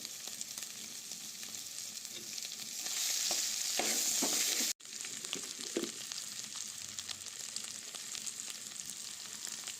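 Mashed boiled potatoes, about a kilo, stirred and fried in a pan, giving a steady sizzle with scraping spatula strokes, a louder hissing surge midway, a brief break, then continued frying.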